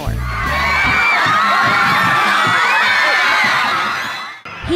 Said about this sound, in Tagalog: Hiyawan at tulakan